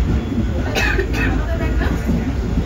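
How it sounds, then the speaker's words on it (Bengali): A moving passenger train on the Jalpaiguri to Digha route, heard from near the carriage door: a loud steady low rumble and rattle fills the clip, with brief voices and a cough over it. "ট্রেন ছেড়েও দিয়েছে"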